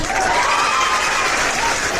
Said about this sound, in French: On va applaudir pour propre nous.